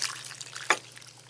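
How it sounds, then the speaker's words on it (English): Au gratin mix poured from a pot onto potatoes in a casserole dish makes a single soft, wet plop of liquid over a faint steady hum, with no talking. "the au gratin mix and pour it in here"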